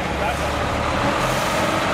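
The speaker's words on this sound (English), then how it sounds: "That's the last bus that's going to pass through here today." A city bus rolls past on the street beside a construction site where lifting beams are being installed, a loud steady engine and road rumble mixed with traffic noise and talk.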